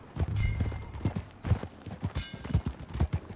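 Steady clip-clop of horse hooves at a trotting rhythm in the video game Red Dead Redemption 2, fairly close, with faint background noise and no talk.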